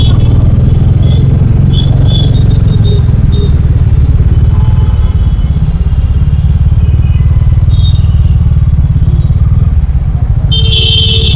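A motorbike with a rider and no helmet passes close by on a street, its loud engine drone and rumble dominating throughout with some clatter, then a sharp burst of noise near the end; no speech.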